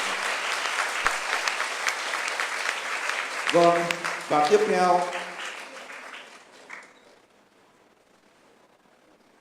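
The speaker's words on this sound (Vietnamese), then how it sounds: "Xin các bạn cho một tràng pháo tay thật dài" A long round of audience applause rises at a Buddhist memorial ceremony at Vinh Nghiem Pagoda, loud and dense for several seconds before tapering off as a voice speaks over the fading claps, leaving near quiet at the end.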